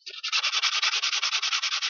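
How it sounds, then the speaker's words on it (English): Glossy model house parts are sanded rough before being glued to wood, giving a rapid, even run of close scratchy back-and-forth sanding strokes, about nine per second, with no talking. "I start sanding the parts which have to be glued to the wood, and I give it a good sanding"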